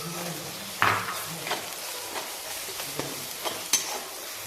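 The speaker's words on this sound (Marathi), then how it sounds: "आता त्यामध्ये मी अद्रक लसूणची पेस्ट टाकते आणि चांगली परतून घेते" Ginger garlic paste sautéing in a pan for pav bhaji, with a soft sizzle and a few scattered spoon scrapes and clinks against the pan.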